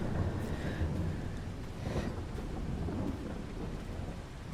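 Rain falls steadily with rolling thunder in the video game Farming Simulator 22, a low rumble under the hiss of the downpour that continues without a break and with no voices.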